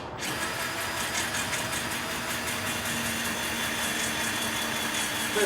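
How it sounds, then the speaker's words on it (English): A drill drives a sectioned cutting tool with a blade on each section during a budget VW restoration, giving a steady whirring mechanical drone that runs continuously and evenly throughout, with no speech. "each section has a blade on it and cuts little by little, and it's all powered by a drill"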